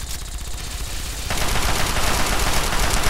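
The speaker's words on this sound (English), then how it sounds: "Oh, I shoot him in the fucking head" Rapid gunfire from the video game Fallout 3 crackles loudly and continuously, growing denser and heavier partway through, with no talking.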